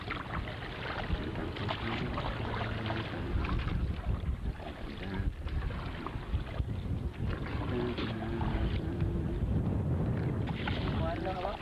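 Paddling a small boat on the water at Bailys Key, Roatan, with steady splashing and wind rumble against the microphone throughout, loud and close, and faint voices in the background.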